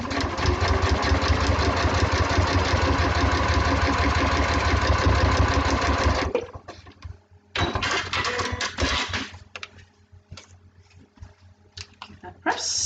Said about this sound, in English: Needle down, just sew along the line.